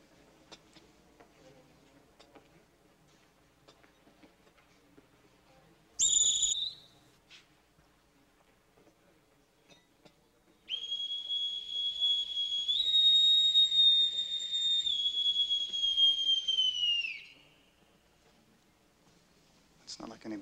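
A metal bosun's whistle blown twice: a brief shrill burst, then a long high steady tone lasting several seconds, loud and close, with quiet surroundings between.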